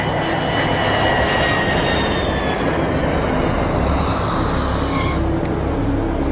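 A JPATS prisoner transport airplane lands on runway 32, with a loud, steady engine roar and rushing wind close by that eases off slightly near the end, with no voices.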